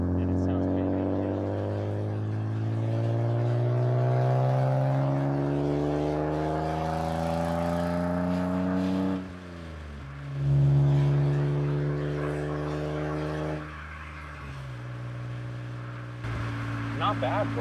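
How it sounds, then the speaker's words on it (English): A BMW E36 with its stock exhaust pulls through the gears on a rainy day. The engine note climbs steadily, dips at two gear changes, then rises again, loud and close throughout. "Not bad for a stock exhaust."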